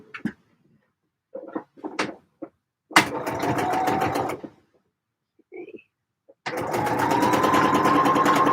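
A sewing machine runs in two sustained bursts while a magnolia quilt block is stitched, with short clicks and handling knocks between the runs and no talk.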